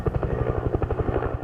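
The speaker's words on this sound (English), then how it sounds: "The Collier County Sheriff's Office's Huey helicopter has been assisting firefighters by dropping countless buckets of water on the Flag Pond fire." A Huey helicopter working a wildfire with water bucket drops, its rotor thumping in a fast, steady rhythm at moderate loudness, heard alone.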